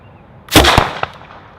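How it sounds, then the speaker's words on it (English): A can of hairspray blown up outdoors, one sharp loud bang with a short crackling burst and a smaller pop just after. "And now we're gonna put hairspray and blow that guy up."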